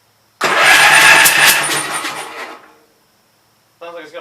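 A Gravely Pro 12 walk-behind tractor engine, suspected of a stuck intake valve, cranks and catches loudly for about two seconds, then fades out, with a brief voice speaking near the end.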